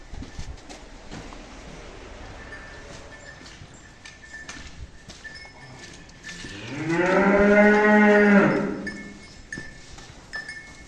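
Bullocks in a barn, given granular fattening feed, let out one loud, drawn-out moo close by. Quieter barn clatter and shuffling surround it.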